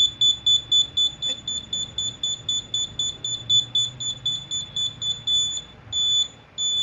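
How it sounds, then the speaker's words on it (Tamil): Rapid, regular beeping from an Arduino distance-sensor buzzer on a DIY stick exercise tool, a steady train of short high electronic bleeps that briefly pauses and then returns as longer tones near the end, with no talking. "அதே வந்துட்டு ரொம்ப பக்கமாக போகும்போது பீப் சவுண்ட் அதிகமாகும்"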